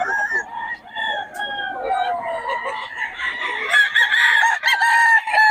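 Bullstag gamefowl roosters at a poultry farm cluck and crow, several birds calling over one another at close range, their crows rising louder toward the end.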